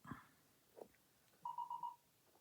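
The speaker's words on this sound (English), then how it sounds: "Oh, sorry, that's my phone." A phone weather app sounds a storm-warning alert: four quick, evenly spaced electronic tones in a short burst, faint and close, after a couple of soft handling sounds in a quiet room.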